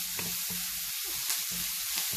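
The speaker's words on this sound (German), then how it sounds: "jetzt kommen noch meine Ingwer-Knoblauch-Pasta dazu. Und dann brate ich noch weiter," Ginger-garlic paste sizzles and fries in a pan for a Bhindi Masala okra curry, with a close, crackling hiss broken by the rhythmic scrapes of stirring.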